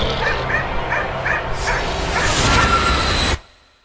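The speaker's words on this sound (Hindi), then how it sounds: "जोर जोर से भौंकने लगा" A dog barks in quick repeated yaps, then whooshing noise swells over it before everything cuts off abruptly; the barking sounds close and loud.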